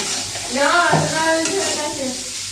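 Fish curry with capsicum, tomato and chopped onion frying in a wok, giving a steady close sizzle and hiss under a voice that runs through most of the moment.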